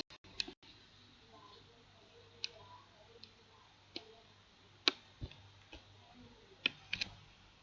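A password typed on a computer keyboard, a sparse sequence of sharp isolated key clicks spaced irregularly over several seconds, close and quiet against a low hum.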